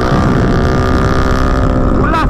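Yamaha Y15 motorcycle engine with a CBS gearbox revving hard under throttle in sixth gear around 5000 RPM, a loud steady droning whine with harmonic layers and wind rush throughout, briefly rising in pitch near the end.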